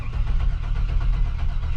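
A 1995 Chevy K1500 pickup, long parked with a draining battery, rumbles to life and runs with a steady, deep, close-up engine drone and no voices.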